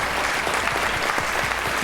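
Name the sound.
audience applause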